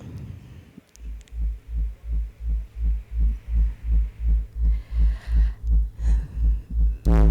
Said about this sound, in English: now let's move on to the bass line.